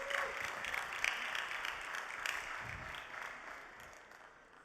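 Audience at a startup pitch event in Düsseldorf applauding to welcome the jury, a fairly faint, steady patter of many hands clapping that gradually tapers off.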